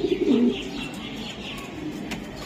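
Racing pigeons from a club loft cooing close by, a soft low throaty burble that swells in the first half-second and then continues quietly and steadily.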